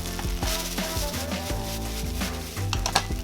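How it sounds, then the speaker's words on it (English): Kimchi fried rice is stir-fried and tossed with sauce in a wok, giving a steady sizzle broken by scraping and stirring clatters, close and fairly loud, with no talking. "Now we're gonna add the sauce and continue stir frying and tossing until all the liquid has been evaporated"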